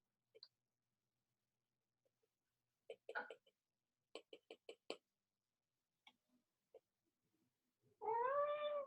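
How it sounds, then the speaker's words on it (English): A house cat lets out a single clear, close meow at the very end, after a stretch of near silence broken only by faint scattered clicks and taps. "Hi, kitty cat."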